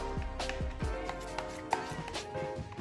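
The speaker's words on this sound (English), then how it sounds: "So now I'm just gonna go ahead and mix these two together" A plastic spoon stirs and scrapes a thick mix of olive oil and hair conditioner in a bowl, giving close, irregular clicks and soft scraping knocks.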